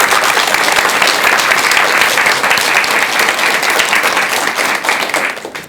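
Audience applause fills a lecture hall to welcome a Buddhist nun's talk on natural dyeing and traditional paper flowers, steady dense clapping for several seconds before tapering off at the end.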